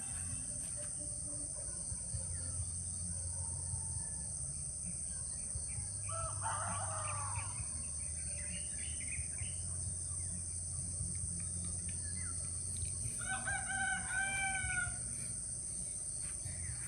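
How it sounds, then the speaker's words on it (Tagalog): A rooster crows in the distance amid a steady chorus of insects, with a second, fainter crow following a few seconds later. "May manok pa pala dito."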